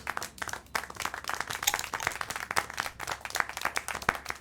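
Continuous clapping from a small crowd in the video game Syberia: The World Before, steady and fairly close, with dense overlapping hand claps and no pauses for the full stretch.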